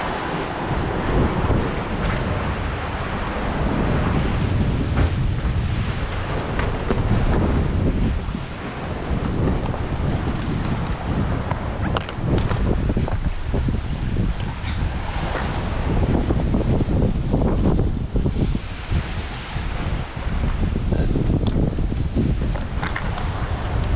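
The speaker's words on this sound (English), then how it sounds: "the wind comes and goes, and the waves are very confused" Wind and confused, choppy waves at sea aboard a sailing boat off Brazil, a continuous loud roar of gusting wind buffeting the microphone over washing, splashing water.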